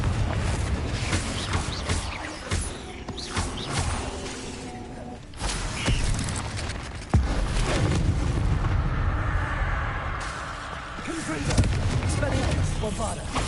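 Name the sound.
Bombarda explosion spell cast in Hogwarts Legacy video game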